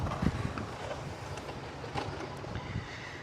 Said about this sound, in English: Oh gosh, the wind is coming up.